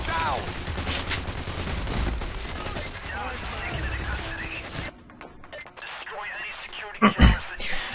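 AK rifle gunfire in the heist shooter PAYDAY: rapid bursts of close automatic shots over a busy, noisy game scene, with speech-like chatter mixed in and a sharp louder blast near the end.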